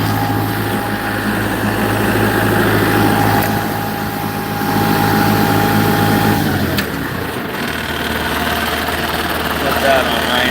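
A bulldozer with a hydraulic leak runs at idle, a loud, steady droning engine hum that drops abruptly to a lower, rougher rumble partway through.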